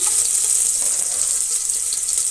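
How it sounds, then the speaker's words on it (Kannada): Chopped onion sizzles steadily in hot oil with mustard seeds and salt for a sambar tempering, a continuous close, bright hiss without pauses and no one talking. "ಸ್ವಲ್ಪ ಈರುಳ್ಳಿ ಚೆನ್ನಾಗಿ ಫ್ರೈ ಆಗಬೇಕು"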